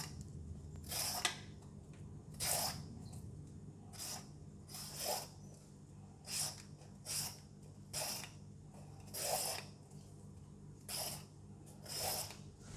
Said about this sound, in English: Use the fruit peeler to remove the loofah skin.